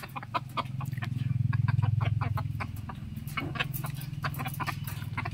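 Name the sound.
chickens clucking, one hen and three roosters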